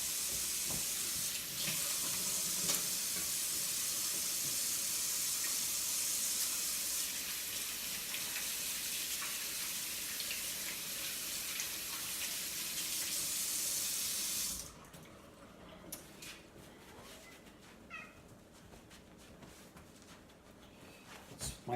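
A kitchen tap runs hard into a sink for about fifteen seconds as hands are washed after handling raw beef for rouladen, then shuts off, leaving light drips and handling noises.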